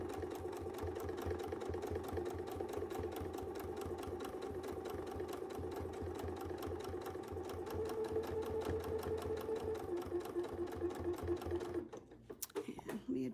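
A sewing machine runs steadily while free-motion quilting curves and arcs, its rapid needle chatter close and continuous before briefly stopping near the end, then restarting.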